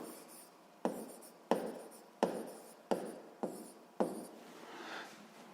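Handwriting during a physics lesson, six or seven quick pen strokes in a regular rhythm, each a short sharp scratch that fades, close and quiet with no voice.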